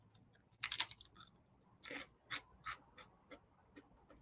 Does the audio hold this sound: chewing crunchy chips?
yes